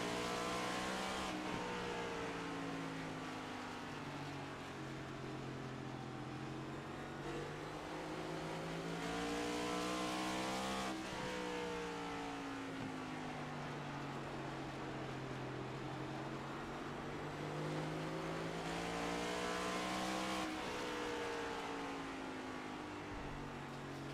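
A Next Gen stock car in the iRacing sim at North Wilkesboro drones steadily, its engine pitch sweeping up and down as the driver lifts off throttle into the corners and gets back on through the laps, with no one talking.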